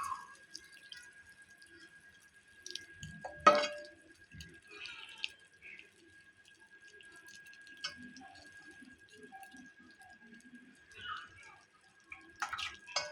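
Amti curry is poured over fasting misal topped with spicy chivda, giving quiet, sparse liquid drips and small splashes with one brief louder splatter partway through.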